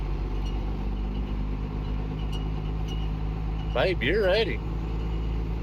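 Steady low idle-to-cruise drone of a 12-valve truck engine in a manual-transmission pickup, constant and close, with a brief spoken exchange near the end.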